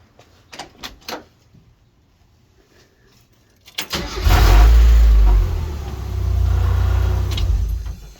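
A car's starter cranks briefly after a few clicks and handling sounds, then the engine catches with a loud, close roar and settles into a rattly running idle with a muffler rattle.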